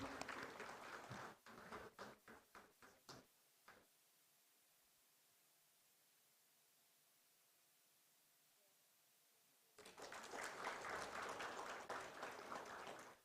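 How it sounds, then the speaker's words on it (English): Audience clapping at a startup summit, a short burst of scattered claps that dies away, a long quiet pause, then a louder, fuller round of applause from the room. "We can clap for him, please."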